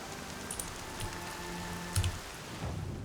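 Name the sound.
rain in the video game Horizon Zero Dawn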